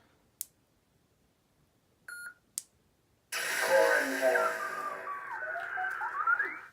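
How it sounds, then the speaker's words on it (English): A short electronic beep from a lightsaber's auxiliary button, then a sudden burst of buzzing, humming effects with sweeping tones that keep going to the end. "Push and hold your auxiliary button until it beeps"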